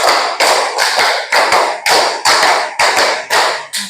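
A classroom full of hands claps in a steady rhythmic pattern, about ten sharp, loud claps in quick groups, with no voices over them.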